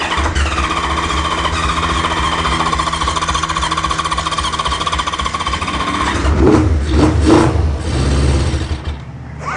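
An old car engine from a barn find runs with a steady, rapid rattling chatter after starting on the key, close and loud, then revs in a few short bursts before easing off.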